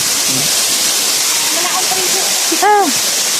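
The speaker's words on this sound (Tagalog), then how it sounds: "Mahangin dito katambay, gawang impact ng tubig pababa." Water crashes down at Ambaktubig waterfall in a loud, steady roar that never breaks. A voice rises briefly over it near the end.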